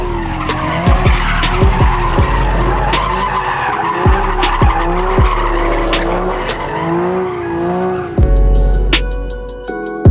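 Cars drift along LA canyon roads, their tires skidding and squealing loudly in long, wavering screeches over roaring engines. Several cars pass near, one after another, with sharp bursts of revving throughout.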